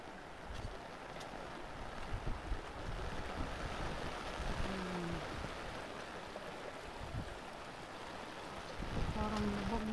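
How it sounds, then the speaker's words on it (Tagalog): Strong floodwater current surging through a flooded mountain area in Catubig, Northern Samar, a steady broad rushing roar with wind mixed in and no break throughout. "Lakas ng tubig."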